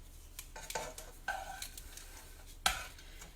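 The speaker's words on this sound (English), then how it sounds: "stir them all up with oil." Spiralized butternut squash noodles tossed and stirred with oil in a pan, giving a few soft scraping and clinking utensil sounds spread irregularly over a quiet background, with one sharper knock near the end.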